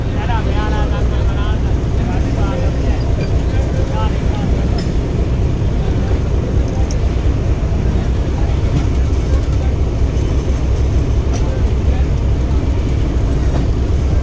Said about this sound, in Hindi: अभी स्लो है ट्रेन।